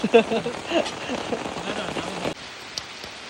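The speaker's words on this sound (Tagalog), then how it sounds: "Uy ulan" Steady rain patters on a surface, dense and close, on a mountain trail on Mt. Apo, then softens abruptly to a lighter hiss near the end.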